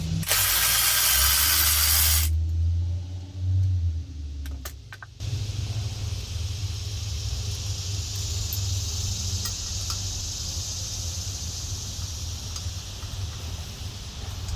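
A ratchet working on the ground cable bolt of a Honda J35 V6 engine, close and fairly loud, with a hissing burst and clicks at first, then a steady whirring mechanical drone.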